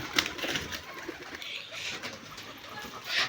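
Soft, low coos of Giribaz pigeons in a quiet outdoor setting, a few murmuring calls spread across the clip with faint background noise.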